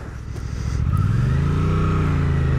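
A 2024 Suzuki GSX-8R motorcycle engine revs up while riding, a rising, steady close-up drone that climbs in pitch and holds loud to the end with no talk.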